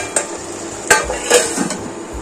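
Handi mutton fries on low-medium heat in a pressure cooker, giving a soft sizzle under scraping and clattering as a spoon stirs and knocks against the metal pot several times.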